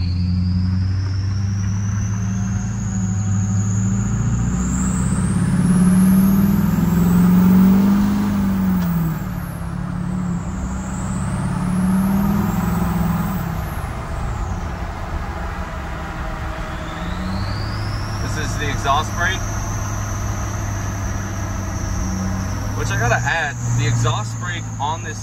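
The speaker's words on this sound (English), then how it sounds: "But if you love turbo noises, this is it. All right, let's get you guys some windows down noise." A Duramax diesel pickup fitted with a Stainless Diesel five-blade drop-in turbo drives with the windows down. A deep engine rumble swells and eases while a loud turbo whistle climbs and falls with each acceleration, continuous and close.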